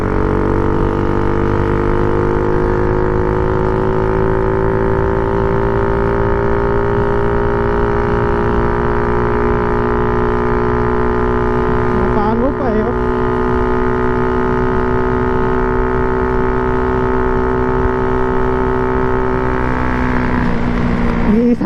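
A 19-year-old Honda XRM 110 motorcycle engine idles and runs steadily and loudly throughout, a constant low rumble with a brief rev change near the end.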